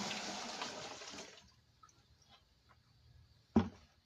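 Water poured through a cloth filter, a gushing wash of liquid for over a second that cuts off, followed by quiet and one sharp clunk near the end.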